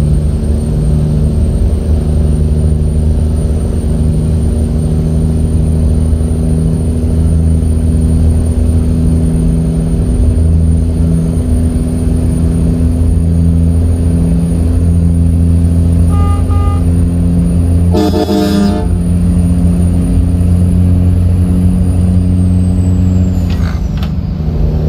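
A simulated American truck's engine drones steadily and loudly as it revs back up and shifts up through the gears, its pitch stepping with each change, with a short hiss and rattle partway through and a falling whine at the end.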